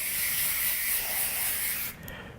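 Airbrush spraying paint on a flaming skull design, a steady, close airy hiss that holds evenly for about two seconds, then cuts off abruptly.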